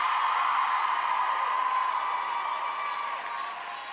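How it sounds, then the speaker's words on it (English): Graduates at a university commencement ceremony in a pavilion applaud the faculty, a steady, fairly distant wash of clapping from a large crowd that holds evenly and thins slightly toward the end. "graduates, I'd like you to turn this direction and applaud the faculty sitting here behind me"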